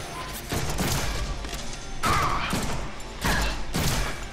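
Bursts of rapid gunfire from the Deadpool video game, in three loud, dense volleys separated by short pauses, with thuds and impacts mixed in.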